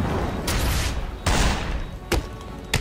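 Bursts of gunfire crackle in Batman: Arkham City, a sustained volley followed by two sharp short shots, loud and punchy.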